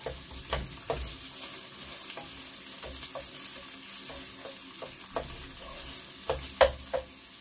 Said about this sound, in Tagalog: Lutuin lang natin ang maayos ang sibuyas.